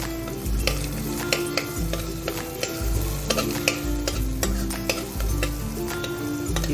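A spatula stirs and scrapes a sizzling spice mixture of garam masala and red chilli powder in a hot pan, with rhythmic metallic scrapes and knocks over a steady frying hiss.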